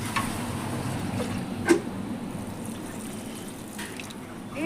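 A soft, steady trickle of water being poured into chicken curry, with a faint splash partway through against a low background hum.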